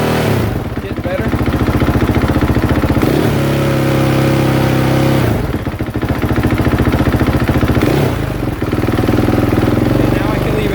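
A KTM 450SXF motocross bike engine runs steadily with its cold start activated, a loud close rumbling idle with periodic swells in revs across several seconds.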